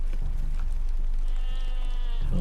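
Sheep bleating in the online game Lord of the Rings Online (LOTRO), a sustained bleat holding steady through the middle of the clip over a dense, busy game background.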